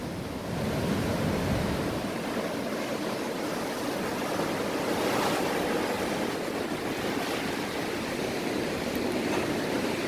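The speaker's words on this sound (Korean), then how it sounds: "파도가 너무 세가지고" Strong sea waves crash steadily onto a shore of rounded rocks at Sacheon beach, a loud continuous roar of surf with wind noise and no pauses.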